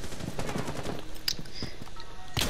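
Rapid bursts of video game gunfire crackle in close, dense volleys, with a few sharper single shots standing out near the end.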